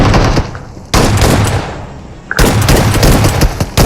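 A shotgun fires in a battle royale video game: loud, close blasts in quick succession, each cutting into a sustained, noisy roar with short drops between bursts.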